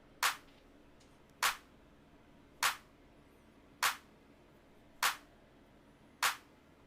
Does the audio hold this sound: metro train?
no